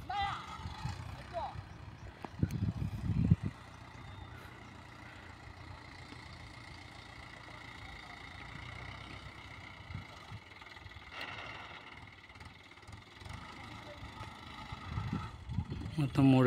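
Farm tractor idling in a field, a faint, low, steady engine drone that continues under people talking.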